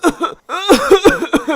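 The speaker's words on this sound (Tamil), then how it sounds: "இந்த வீணா போன இருமல் வேற வந்துகிட்டே இருக்கு" A person coughs and clears their throat in a rough, repeated series of close, loud bursts, with a short pause between fits.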